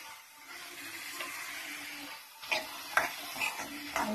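Mixed vegetables with garlic and ginger frying in a pan for veg fried rice, a soft sizzle that grows louder with clinking, scraping stirs toward the end and no voices.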